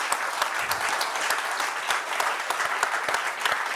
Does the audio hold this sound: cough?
no